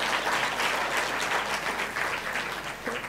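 Conference audience at the Lee Kuan Yew School of Public Policy's 10th anniversary applauding, a continuous, moderately distant patter of many hands clapping for the whole stretch.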